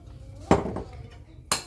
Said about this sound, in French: Et on va mélanger tout ça.